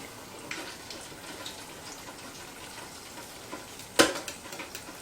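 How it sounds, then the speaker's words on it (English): Soft, steady sizzling of fried guacamole frying in a pan, with faint crackles and a sharp clink of a utensil near the end. "And we'll just keep frying up 6 at a time."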